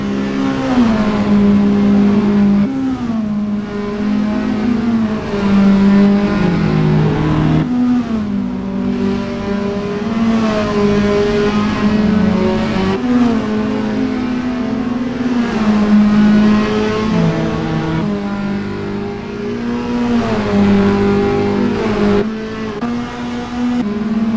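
A Toyota S-FR race car engine in Assetto Corsa drones loudly and continuously on track, its pitch climbing and dropping through gear changes and revs, with steady tyre and wind noise underneath.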